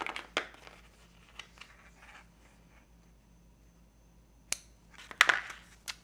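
Scissors trim crochet yarn with a few sharp, close snips spread across a quiet stretch, ending in a quick cluster of cuts and light handling noise.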